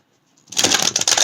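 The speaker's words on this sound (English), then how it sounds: "One more shuffle" Oracle cards are riffled and shuffled by hand at close range, a dense burst of papery flicking and slaps that starts after a quiet opening, with no one talking.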